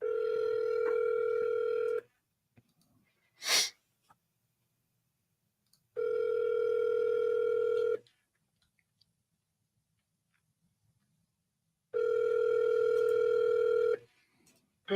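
Telephone ringback tone on an outgoing call, sounding in three steady two-second bursts separated by pauses of silence, with a brief click between the first two rings.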